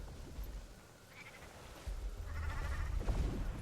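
A springer rabbit mount in Guild Wars 2 lets out short goat-like bleats, two quiet cries over a soft low background with no talk.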